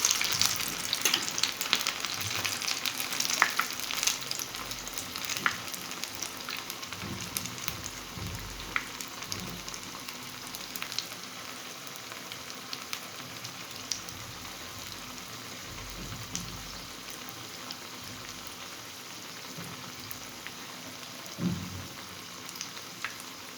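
Coriander-leaf chops sizzle steadily in hot oil after being turned over, a dense crackling fry with a few soft scrapes and stirs, no talking.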